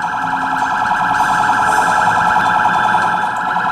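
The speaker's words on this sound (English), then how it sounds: "the car alarm was still going off" A car alarm blares continuously in the open-world game Sleeping Dogs, a loud, steady warbling tone that persists unbroken throughout, with no voices.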